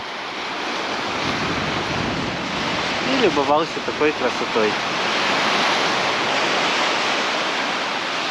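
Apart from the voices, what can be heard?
sea waves on the shore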